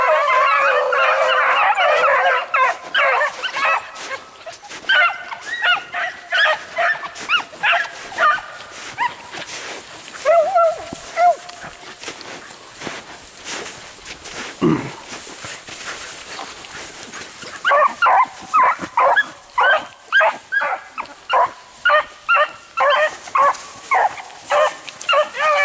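A pack of hunting dogs bays and yelps while chasing a hare outdoors, bursts of loud overlapping cries at the start and in a rapid rhythmic run near the end, with quieter barking between.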